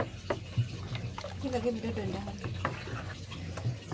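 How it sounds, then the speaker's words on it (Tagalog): Homemade fabric conditioner with blue colorant is stirred in a container. Soft, close swishing and sloshing of liquid continues under light talking. "So, i-mix na naman natin to."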